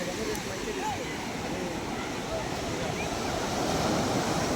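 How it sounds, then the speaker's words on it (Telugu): Waves washing onto an empty beach at Kothapatnam near Ongole, a continuous broadband rush of surf with wind, steady and fairly loud throughout. "ఏది అంతా ఖాళీగా ఉంది బీచ్ రోజు హడావుడిగా ఉంటుంది"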